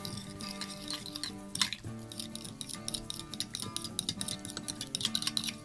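Whisking Alabama white sauce with garlic, fresh cracked pepper and white sugar in a bowl: rapid, continuous metallic clinks and scrapes of a utensil against the dish, close and busy, with a steady low hum underneath.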